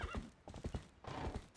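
Hooves of the horse Epona clip-clop in quick galloping rhythm in Zelda: Twilight Princess HD, with a whinny near the start; close, steady beats alone without speech.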